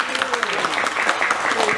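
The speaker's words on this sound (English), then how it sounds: "a big round of applause for Dan." Audience applause for a volunteer at a live variety show, a steady wash of clapping from a crowd that runs throughout, with a voice speaking faintly over it.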